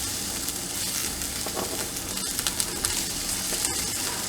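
Onions and garlic frying in olive oil in a pan, a steady close hiss and crackle of sizzling with small pops throughout, no talking.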